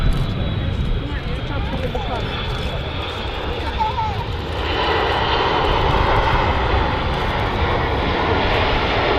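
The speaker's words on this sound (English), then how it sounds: "And this aircraft is 21 years old, so 767 is quite old." A 21-year-old Boeing 767 airliner at Manchester Airport gives off a loud, continuous jet engine roar that swells partway through. Voices can be heard faintly under it.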